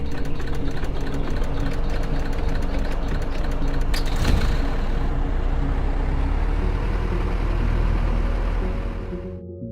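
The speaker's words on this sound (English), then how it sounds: "Let's power up the engine by using the magic functions for the engine startup sequence." A steady, loud engine drone with a high whine from an Aquila A211G light aircraft starting up in X-Plane, holding level throughout before fading slightly at the end, like a jet engine spooling and running.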